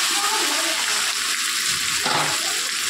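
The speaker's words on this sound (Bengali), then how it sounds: "আমি এটা নাড়িয়ে নিচ্ছি" Mashed eggplant frying in oil in a pan for begun bhorta, a steady close sizzle with faint scraping as it is stirred, without talk.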